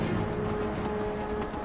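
Horse hooves clip-clopping in Skyrim while riding through a fast-travel arrival, a steady dense patter of hoofbeats with a faint rain-like hiss over a low rumble.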